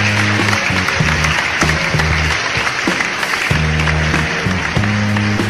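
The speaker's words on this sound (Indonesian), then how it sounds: "terima kasih untuk tepuk tangannya guys ya" Loud, dense clapping from a crowd runs continuously, mixed with a steady musical backing of sustained low tones.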